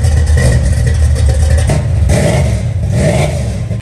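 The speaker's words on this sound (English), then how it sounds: "when you start something like this and you hear the exhaust" A car engine revs hard and rough, its exhaust roaring loud and close with repeated throaty surges and rattling.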